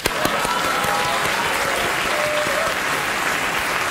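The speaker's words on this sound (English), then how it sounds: "Applause." A television studio audience bursts into loud applause with a sharp opening clap, then a dense, even roar of hands that holds steady to the end.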